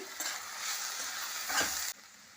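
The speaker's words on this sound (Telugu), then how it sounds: "ఈ ఉల్లిపాయలు ఇలా వేగుతున్నాయి కదండి" Onions sprinkled with salt fry in a pan for a paneer mixed-vegetable curry, a steady close sizzle with a stirring scrape near the end before it cuts off.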